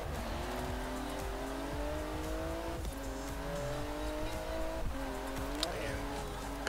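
A car races a custom route in the video game Forza Horizon 4, its engine holding a loud, steady drone with brief dips and surges as it shifts, brakes and lifts off through corners.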